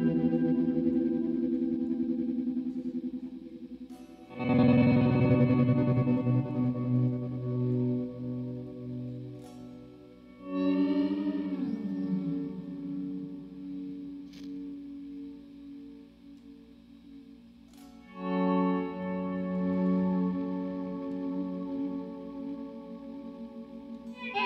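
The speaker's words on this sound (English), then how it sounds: "some kind of tremolo as well as the chorally flange." Electric guitar run through tremolo and chorus-flange effects, sustained swirling chords that ring out and shimmer, with a few sharper strums layered in, played alone at moderate volume.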